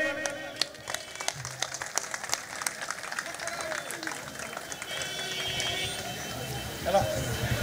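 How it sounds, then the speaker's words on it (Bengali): Scattered hand-clapping from a crowd at a Trinamool Congress youth political meeting in Barasat, steady and moderate under continuous talk and background noise from the gathering. "সবাই একটু জোরে করতালি।"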